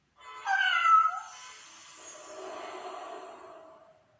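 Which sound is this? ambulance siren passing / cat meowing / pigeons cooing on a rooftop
cat meowing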